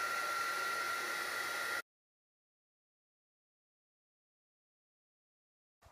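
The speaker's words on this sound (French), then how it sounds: "Il vous suffit ensuite de prendre votre pistolet chauffant" A heat gun blows steady hot air onto a plastic window card, a loud, close rushing hiss that cuts off abruptly after about two seconds, followed by silence.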